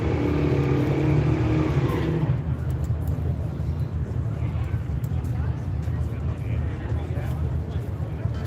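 Drag race cars, a 455 Oldsmobile and an X-Body Pontiac Ventura, roar loudly at a beater drag event, a strong engine blast that cuts off after about two seconds and gives way to steady crowd and track rumble.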